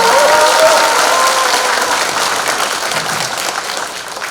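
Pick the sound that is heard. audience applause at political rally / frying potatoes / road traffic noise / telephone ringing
audience applause at political rally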